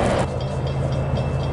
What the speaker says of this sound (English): here comes another train northbound by Mycroft